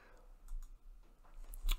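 Faint, quiet mouse clicks on a computer while working on a chart in Microsoft Excel, a few soft ticks spread across a near-silent moment with a sharper click near the end.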